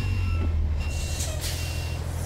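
Steady reversing beeps from a Kenworth T908 truck in American Truck Simulator, repeating evenly over a continuous low engine drone, with a brief air-brake hiss partway through.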